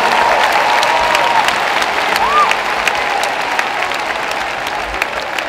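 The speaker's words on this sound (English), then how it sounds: "I want you to start clapping for yourself." An audience at a sermon by Bishop T.D. Jakes claps for themselves in a dense, sustained burst of applause that fills the whole stretch at a steady level, with a voice faintly heard through it.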